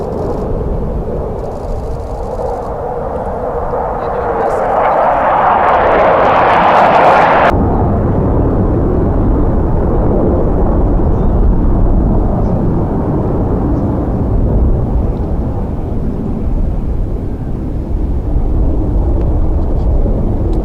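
A military jet roars loudly during an air display, its broad engine noise rising and then shifting abruptly into a sustained deep rumble as it accelerates past, continuous for the whole stretch.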